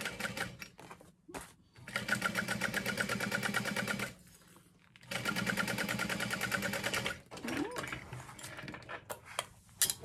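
A sewing machine bastes handbag fabric in two long rapid runs of stitching, with short stops and scattered clicks and handling noises between them.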